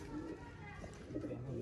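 Sialkoti pigeons, breeder birds, cooing faintly in a low, soft murmur, close by and quiet.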